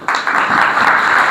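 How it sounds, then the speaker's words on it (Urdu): A church congregation applauds together, a dense, steady wash of clapping that starts abruptly and holds at a fairly loud level, with no voices above it. "تو ہم انتظامیہ کے لیے تالیاں بجائیں۔"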